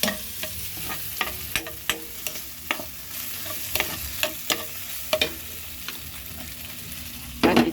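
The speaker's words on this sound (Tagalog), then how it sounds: "magluluto tayo ngayon ng munggo" Mung beans cooking in a pot, a constant low simmering hiss broken by repeated sharp clacks and scrapes of a spoon being stirred against the pot.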